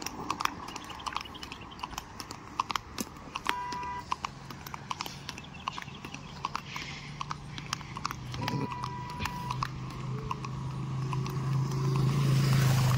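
A mare's hooves clip-clop in a quick steady rhythm on a hard paved road, with traffic hum and a vehicle engine growing louder toward the end.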